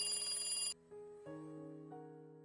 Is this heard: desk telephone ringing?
yes